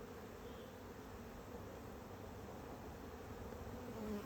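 Bees buzzing around an opened beehive during an inspection, a dense, steady, close swarm drone that continues evenly throughout with no talking.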